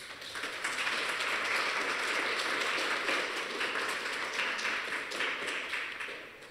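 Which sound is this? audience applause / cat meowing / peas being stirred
audience applause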